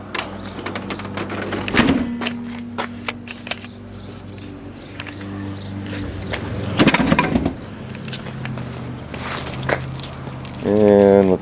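A set of car keys jangles and clinks in short metallic bursts near the microphone, with pauses between handling sounds and someone talking intermittently.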